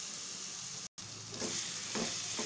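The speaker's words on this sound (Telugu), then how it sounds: "ఇప్పుడు బాగా వేపుకోవాలి. ఉడికించిన చికెన్ వేసేస్తున్నా" Boiled chicken with chili powder and garam masala sizzles and fries in a pan, a steady close hiss broken by a short dropout, with stirring scrapes near the end.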